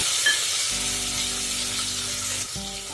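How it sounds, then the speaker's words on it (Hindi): Tomatoes frying in ghee in a pan give a steady, bright sizzle, a continuous close hiss of hot fat with faint crackles throughout. "टमाटर को हम तब तक इस पे करेंगे फ्राई जब तक कि ये टमाटर सॉफ्ट ना हो जाए"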